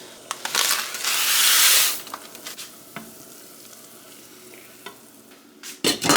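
Rice is tipped from a container into two cups of boiling water, a burst of pouring rush and hiss followed by quieter bubbling with a few clicks and taps.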